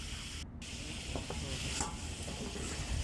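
Beef with spices frying in a pot for a wedding-style bhuna, a continuous hissing sizzle with intermittent stirring scrapes, moderately loud and without talk.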